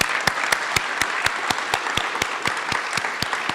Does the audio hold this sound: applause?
yes